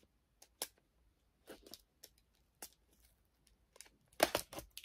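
Scissors or a blade snip and crackle through packaging wrapped around a comic book, a series of sharp, quiet, irregular cuts and rustles with gaps of silence between them.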